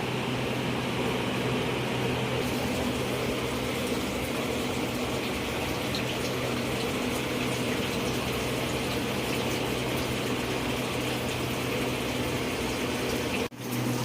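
A steady mechanical hum of an air cooler running, with a constant watery whir and fan drone throughout, cutting out briefly near the end.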